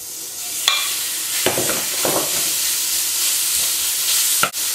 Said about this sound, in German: Das lasse ich jetzt goldbraun anbraten, das Fleisch.